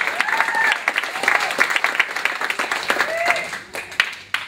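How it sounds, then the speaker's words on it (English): An audience applauds a pair of adult-category ballroom dancers returning to the floor at a dance showcase, loud continuous clapping with crowd noise and a few whistles, while an announcer's amplified voice carries over it. "Give them a round of applause."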